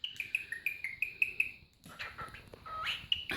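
A one-eyed cockatiel chirps at its mirror with a quick, regular series of soft, high tweets, then a pause and a looser run of faint chirps and whistles nearby.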